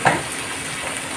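Chana dal is sautéed in a pan with spices, a close, even sizzle with a brief louder stir at the start.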